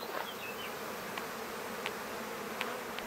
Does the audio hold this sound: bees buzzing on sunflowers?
yes